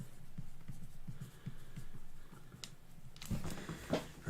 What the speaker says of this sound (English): I'm going to write your name on this so I don't get it confused in this break